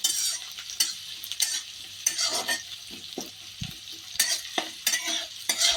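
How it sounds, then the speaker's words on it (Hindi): Chopped onions frying in a pan while being stirred, with repeated scraping strokes of a utensil over a continuous sizzle, close and fairly loud in irregular bursts. "इस तरीके से काट के हमें प्याज को थोड़ा भून लेना है"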